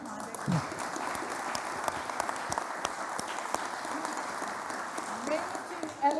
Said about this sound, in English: he gets the biggest applause of all